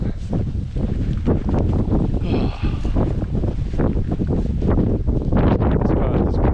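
Strong wind buffets the microphone on a hillside path descending toward a secluded Scottish beach, a loud, steady roar with gusty surges that continues throughout.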